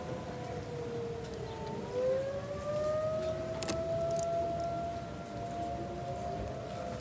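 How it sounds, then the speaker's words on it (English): A tornado warning siren wails during a severe thunderstorm, a loud sustained tone that slowly rises and falls as it rotates, droning steadily throughout with faint background noise. "You can hear the siren."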